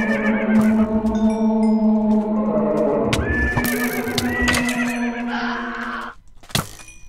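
A skeleton's horse in a video game whinnies loudly in long drawn-out calls over clip-clopping hooves, with cracking and thudding impacts near the end before a brief quiet gap.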